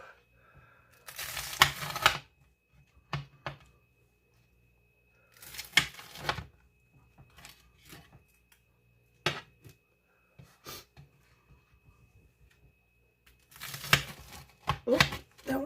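Knife slicing through tomatoes on a cutting surface in a home kitchen, a few short, soft crunching cuts spaced apart with quiet gaps, close by and fairly faint.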